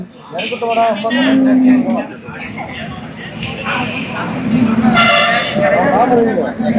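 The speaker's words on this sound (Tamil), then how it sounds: "பெருங்கோட்டு மாடு பார்த்தாலே தெரியுது." A native cow at a cattle market gives several long, loud, close moos, with a sharp horn-like bellow near the end, while people talk nearby.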